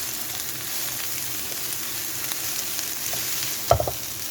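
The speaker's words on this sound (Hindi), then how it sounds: "अब हम इसको अच्छी तरह से मिक्स करेंगे और हल्की आंच पे इसको पकाएंगे" Vegetables for chicken and vegetable spring rolls stir-frying in a pan over a low flame, giving a steady soft sizzle throughout with a brief louder clatter of stirring near the end; no talking.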